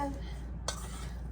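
Rice for arancini, seasoned with garlic powder, stirred in a bowl: a quiet scrape of a utensil against the bowl with one sharp clink midway, over a low steady room hum and no talking.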